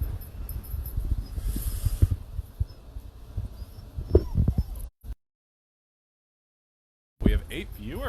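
Puppies whimpering and yipping indoors, a few soft scattered whines and yips over low background noise, broken by a short silent gap before more brief cries.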